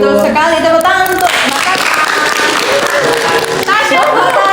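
Audience applause at a school guidance counselling session, a loud, steady wash of clapping running throughout while voices speak and call out over it.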